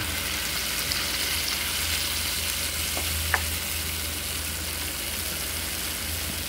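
Coconut milk sizzles in a frying pan while cooking ginataang tulingan, a steady even hiss throughout with a faint clink midway.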